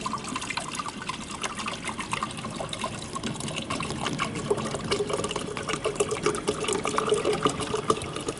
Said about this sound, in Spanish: Entonces procedemos a echar el líquido, que es agua corriente, en el recipiente, en el tanque.